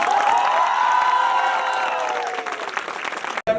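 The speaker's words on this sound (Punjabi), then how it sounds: "ਜ਼ੋਰਦਾਰ ਤਾੜੀਆਂ" Loud, sustained applause from an audience at a Diwali gathering, dense clapping mixed with a few cheers that thins toward the end before a brief pause and a final burst.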